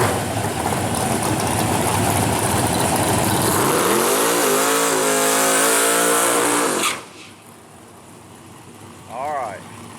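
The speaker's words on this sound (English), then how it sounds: "We got a race car racing." A race car at a track day, Foxbody Mustang style, roars loudly and continuously with a rising engine pitch, then the noise drops away suddenly to faint background with a brief distant swell.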